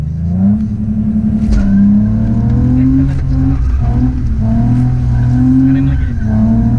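A car drifting with spinning tires, its engine revving hard and rising and falling in pitch as the throttle is worked, mixed with tire squeal, loud and close throughout.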